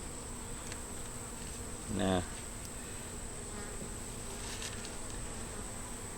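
Honey bees hum steadily around a deep nuc hive holding only a few frames, a faint continuous buzz throughout with a brief closer pass and a short spoken word.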